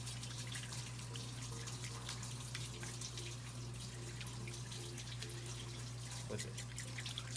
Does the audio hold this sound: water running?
yes